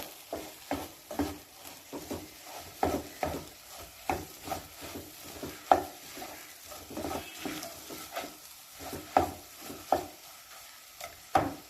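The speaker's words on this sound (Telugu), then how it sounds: "దీన్ని బాగా కలుపుకోవాలి." Egg curry being stirred in a pan over a low flame, a spoon scraping and clacking in a steady repeated rhythm close up, with a soft sizzle underneath and no voices.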